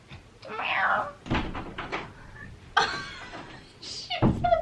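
A house cat cries with a few rising, drawn-out meows from just outside a locked door, mixed with knocks and clunks of the door and cupboards close by.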